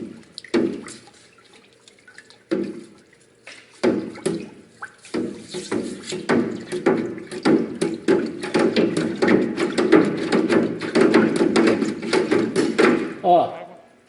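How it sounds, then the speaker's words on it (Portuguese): A heated steel part quenched in water and moved around, giving irregular splashing, dripping and sloshing sounds close by, growing busier over time. "Agora eu vou efetuar a têmpera em água"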